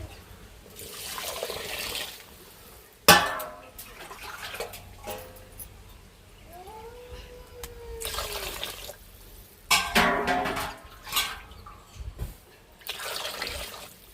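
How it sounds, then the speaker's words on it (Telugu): Water poured into a cooking pot, splashing and gurgling in several short bursts separated by pauses, with thuds and handling noises in between; moderately quiet and close. "తర్వాత కేసుకు వాటర్ పోసుకున్నామండి"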